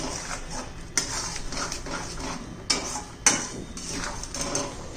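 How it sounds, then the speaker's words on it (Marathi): Onion-garlic masala with turmeric and coriander powder being sautéed in a pan for a drumstick curry, with a steady scraping of a spoon against the pan and a few sharp metallic knocks. "एक चमचा कांदा लसूण मसाला थोडीशी हळद थोडी धना पावडर व्यवस्थित असं परतून घ्यायचंय"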